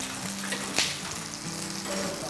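Chicken shallow frying in oil in a pan, a steady close sizzle and crackle with a brief utensil scrape partway through, no voices.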